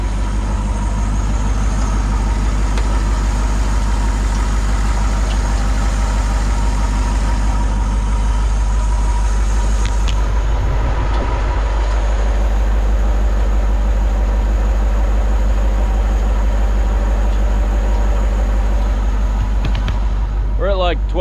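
A 76-year-old Pontiac engine running at hot idle, a steady low rumble that continues through the whole clip, with a voice speaking over it partway.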